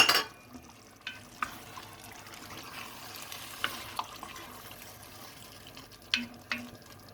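Hot water is poured into minced meat and okra frying in a pan, a quiet hiss and trickle with a few faint clinks scattered through the stretch.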